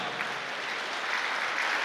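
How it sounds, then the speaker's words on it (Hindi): A church congregation claps with both hands raised in praise, a dense steady wash of applause without pause. "दोनों हाथ उठा के ताली बजाओ और प्रभु का धन्यवाद करो"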